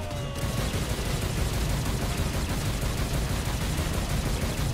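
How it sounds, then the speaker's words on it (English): Continuous dense gunfire in the video game Saints Row: Gat Out of Hell, a loud, unbroken wash of rapid shots filling the whole stretch with no pauses. "And I'm like shooting him like in the head constantly."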